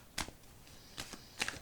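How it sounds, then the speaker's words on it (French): Tarot cards are drawn from a shuffled deck, giving three quiet, close, papery slides and flicks spaced across a second and a half with silence between. "Je vais aller chercher quelques cartes pour ce lundi 26 juin."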